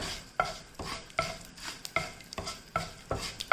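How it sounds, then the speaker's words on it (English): Mustard seeds and curry leaves splutter in hot oil with hing, with a hissing sizzle broken by regular scraping stirs and small sharp pops recurring roughly every second. "then mustard seeds, curry leaves, let it splutter."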